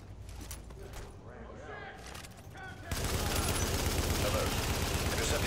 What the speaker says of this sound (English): Reporting gunfire in the station above us.